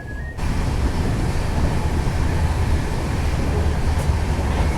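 Moving train pulling away from Surat railway station in strong sun, a steady broad rumble with low-end roar that holds evenly throughout, close and continuous, with no talk.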